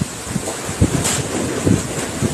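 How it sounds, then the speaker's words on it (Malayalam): Strong wind blowing outdoors, a loud, steady rush with rumbling gusts buffeting the microphone, and no voices throughout. "എന്ത് കാറ്റാ"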